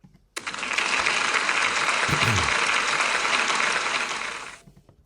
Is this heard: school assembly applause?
yes